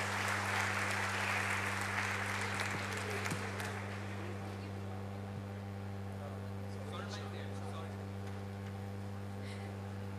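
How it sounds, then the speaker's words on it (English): Sustained audience applause fills a convention hall after a managing director's address, dense and steady through the first few seconds, then thinning to scattered claps over a constant low hum from the room's sound system. "can we have a huge round of applause for him, please?"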